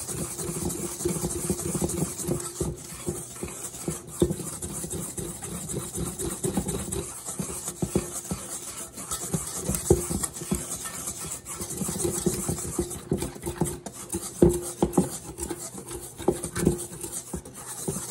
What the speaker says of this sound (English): Now we're just going to take that, just kind of whisk it together in here